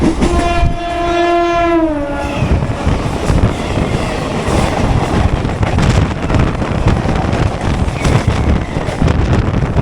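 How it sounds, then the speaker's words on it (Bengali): A loud train horn sounds for about two seconds, then a Howrah–Haldia local train rumbles along the rails with a steady roar and rhythmic clatter. "এবার তমলুকের দিক ট্রেনটা ছুটছে"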